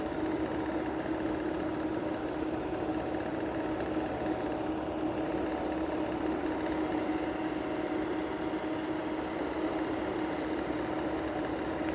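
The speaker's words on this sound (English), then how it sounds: "The warm air gets sucked in and drawn down to the fan down there." A cooling tower air conditioner unit's fan runs with a steady, even whir and hum, moderately quiet and continuous with no voices.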